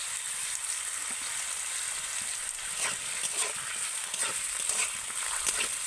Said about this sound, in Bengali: প্রথমে আমি আলু আর গাজরটা দিয়ে ভালো করে একটু ভেজে নেব